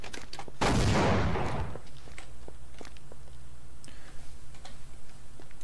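In the Half-Life mod Force of Evil, a loud roaring burst of turret fire lasts about a second, followed by faint scattered ticks and clicks over a low steady hum.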